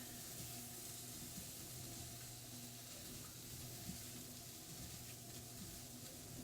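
Hot dogs sizzle and crackle in a hot frying pan while being stirred and pushed around, a steady close frying hiss running throughout with no talk.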